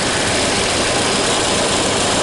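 A 1930 Ford Model A engine on an 8-volt battery system runs steadily nearby, a loud, rough, continuous mechanical rumble with no break.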